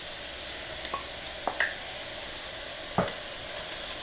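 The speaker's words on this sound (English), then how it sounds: "you want to stir this around and saute it for an additional 5 minutes" Ginger powder, chopped chillies and tomato sauté in a pan with a continuous sizzle, as a spoon gives a few short scraping strokes across the surface.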